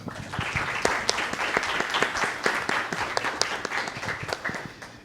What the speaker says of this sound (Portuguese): queremos acolher todos estes nossos irmãos com uma salva de palmas